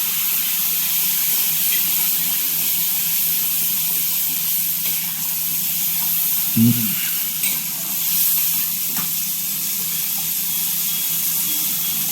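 Spiced masala with Kashmiri chilli, salt and turmeric frying in a pan for egg curry, a steady loud sizzle and hiss throughout with a single brief stir or scrape partway in.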